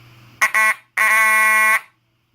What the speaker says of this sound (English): we're gonna sound the horn, and the strobe is gonna flash